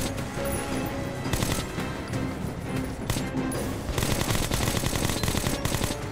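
Rapid, sustained gunfire in Metro Last Light Redux, a dense rattle of bursts that runs for several seconds and grows louder toward the end.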